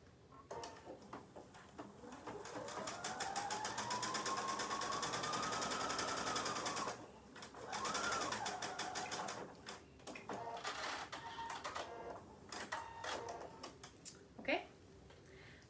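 Sewing machine stitching a bag seam with a half-inch seam allowance, a close rapid mechanical whir that rises and falls in bursts, with brief stops, clicks, and a voice talking over it.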